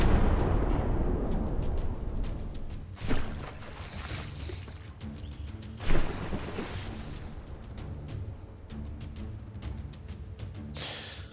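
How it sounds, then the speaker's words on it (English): Heavy cannon hits exploding against a warship in the naval combat game Dread Not, a sustained rumbling din broken by two loud blasts and a sharp burst near the end, with no talk. "Another big hits which are actually penetrating through the whole ship and exploding beams on the other side."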